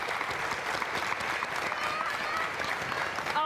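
Sustained applause from an audience at a live event on Cherry Street Pier in Philadelphia, steady dense clapping filling the whole stretch at a fairly loud, even level.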